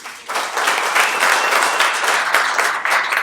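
Audience applause at a stand-up comedy special, a steady wash of clapping from a crowd that holds fairly loud and even for about three seconds, with no voice over it.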